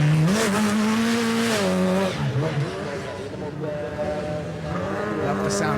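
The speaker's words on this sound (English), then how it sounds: "Love the sound of that RX supercar lights engine." High-revving rallycross supercar engine from a Race of Champions event in Sweden, loud and close with rising and falling pitch through gear changes, tires squealing as the car races past, and a commentator talking over it.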